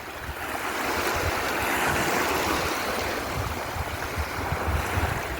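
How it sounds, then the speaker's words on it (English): Steady roar of sea waves washing in, a continuous rushing surf with gusts of wind buffeting the microphone. "Let's just go and look at some of these waves."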